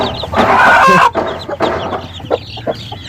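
A hen clucks on a farm in a few short, close bursts of bright, broken calls, the loudest in the first second, followed by quieter scattered clucks and rustling.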